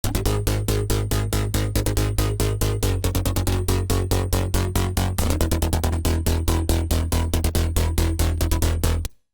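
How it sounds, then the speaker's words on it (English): Bass Absorb, a rolling bass preset in the Serum synth, pumps in quick, even rhythmic pulses. It is loud and dense and shifts pitch a few times before stopping abruptly. No one speaks. "Bass Absorb is a rolling bass,"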